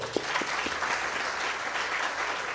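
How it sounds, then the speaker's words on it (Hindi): Loud, sustained applause from a concert audience following an opening Hindustani classical vocal recital by Pandit Umakant Gundecha and Anant Gundecha, a dense steady wash of clapping filling the whole stretch. "अद्भुत जोरदार तालियां होनी चाहिए।"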